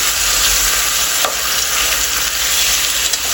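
Chicken sizzles loudly and steadily in a hot pan, with an occasional scrape of stirring cutting through the hiss.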